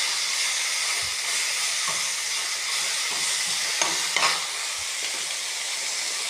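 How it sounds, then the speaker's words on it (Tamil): Thoodhuvalai leaves with pepper, cumin and dried chili sauté in sesame oil with a constant loud sizzling hiss and a few soft stirring knocks. "தூதுவளையை நம்ம இதை போட்டு நல்லா வதக்கிடலாம்."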